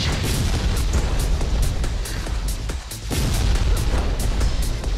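Barrage attack in a video game, a dense stream of booming explosions and rapid pops, loud and sustained with a brief dip midway before the pounding resumes.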